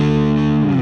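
Overdriven electric guitar through a Helix amp model with a 4x12 cabinet loaded with 1968 T75 speakers and a 57 dynamic mic, one loud sustained distorted chord ringing briefly.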